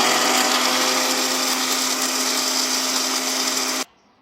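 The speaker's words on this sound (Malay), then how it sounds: "So kita sambung dengan blender kering." A loud electric blender grinding dry spices whirs at high speed with a harsh grinding roar, running steadily for a few seconds before cutting off abruptly.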